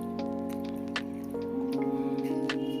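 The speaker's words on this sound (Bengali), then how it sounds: "আমি বোতল থেকে জল নিয়ে নিচ্ছি।" Water pours from a bottle into a bowl while rice-flour batter for patishapta and sharuchakli pitha is mixed, a steady trickle whose tone rises in steps as the container fills.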